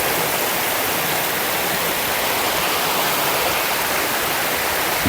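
Lower Falls waterfall at Graveyard Fields near Asheville, North Carolina, roars in a dense, steady rush of falling water, loud and close, with no break for the full stretch.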